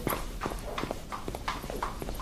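Rhythmic clip-clop of horse hooves on a hard surface, several steady steps at a walking pace, fairly close.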